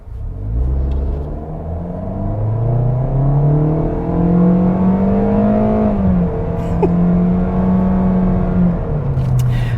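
A 2021 Toyota Corolla Apex with a 2-liter four-cylinder accelerates hard in sport mode with traction control off, its engine note rising steadily, dipping briefly at a shift, then climbing again, loud and close without talk.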